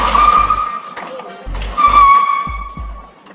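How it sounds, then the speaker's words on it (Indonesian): A car repeatedly rams a parked black sedan to force its way out, with revving engine, squealing tires and several heavy thuds of impact, loud and close, and the motor droning throughout. "suara tabrakannya terdengar sangatlah keras"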